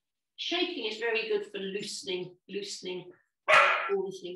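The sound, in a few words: dog barking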